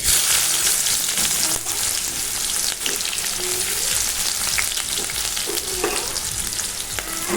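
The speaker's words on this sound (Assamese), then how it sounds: "পাঁচফোৰণখিনি দি দিছোঁ পাঁচফোৰণখিনি ভাজ খাইছে" Panch phoron seeds frying in hot oil give a loud, dense, crackling sizzle heard up close, with occasional scraping stirs breaking through.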